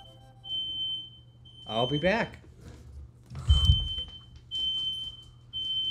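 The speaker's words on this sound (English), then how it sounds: "Fire alarm." A smoke or fire alarm sounds a steady, high-pitched electronic tone that holds across most of the moment, with people talking loudly over it.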